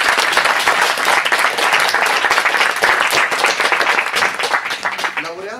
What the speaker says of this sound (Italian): Accoglierei con un applauso il dottor Salvatore Pandurro